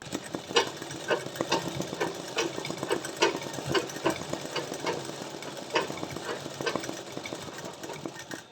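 A machine embroidery sewing machine stitches petals with a rapid, even mechanical chatter, close and continuous, with regular ticking needle strokes throughout.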